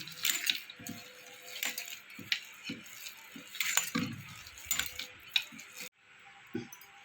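Raw papaya pakora batter being mixed by hand in a bowl, a series of close, wet squishing and scraping strokes in an uneven rhythm, with faint clinks between them and a quieter pause near the end.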